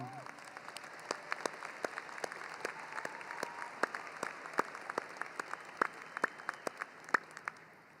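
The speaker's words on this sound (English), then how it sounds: "Let's pause and give them another round of applause." A large crowd at a university commencement ceremony gives sustained applause, the clapping dense and somewhat distant with sharper individual claps standing out, plus a few scattered cheers.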